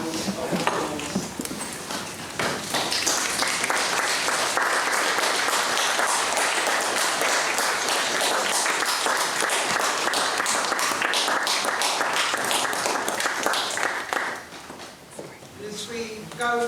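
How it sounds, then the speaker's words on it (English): Memorial service audience standing to give a sustained round of applause, a dense crowd clapping that swells for over ten seconds and then tapers off, with a few voices at the end. "Let's stand to our feet and just give him a round of applause."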